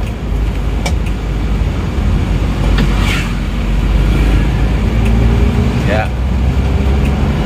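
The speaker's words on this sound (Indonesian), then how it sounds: "Ini gigi 3 ya, gigi 3 gas mentok. RPM-nya merambat naik, lemot sekali." An Isuzu Panther engine, short of power, revs at full throttle in third gear, a loud, steady drone rising only slowly, with someone talking over it throughout.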